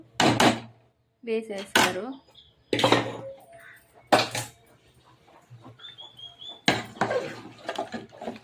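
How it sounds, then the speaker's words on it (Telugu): Marinated crabs coated in salt and chili tipped into a curry pot, heard as a series of loud metal clanks and scrapes from pot and utensils in separate bursts with brief pauses, plus a faint high whine in the middle. "ఆల్రెడీ మ్యారినేట్ చేసి పెట్టుకున్న పీతల్ని ఇప్పుడు వేసుకుందాం."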